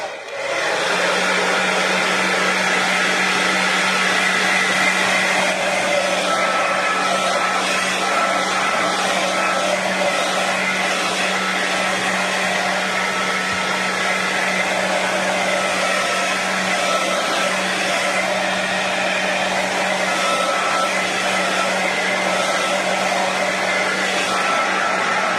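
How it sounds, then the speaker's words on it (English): A heat gun drying a craft piece blows with a loud, steady whooshing roar and a constant hum, running unbroken for the whole stretch with no speech. "I'm just going to put my heat gun on, and just to dry this off a bit"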